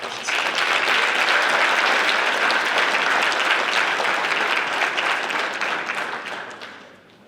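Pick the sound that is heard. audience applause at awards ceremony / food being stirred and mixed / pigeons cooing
audience applause at awards ceremony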